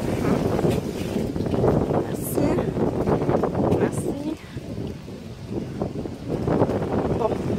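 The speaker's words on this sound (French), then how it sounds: "Il y a beaucoup trop de vent, je vous retrouve après." Gusty wind batters a handheld camera microphone outdoors, making a rough, loud rumbling that swells and eases over several seconds, with a voice talking partly underneath it.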